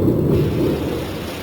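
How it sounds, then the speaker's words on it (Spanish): Thunder from an electrical storm rolls as a loud, deep rumble filling the low end, steady for a moment and then slowly easing off. "en ocasiones se produce una tormenta eléctrica"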